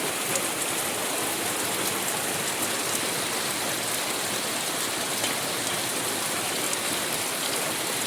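Rain pouring down during a sudden storm in the Sundarbans countryside, a dense, even wash of hissing water that stays constant and loud throughout with no voices.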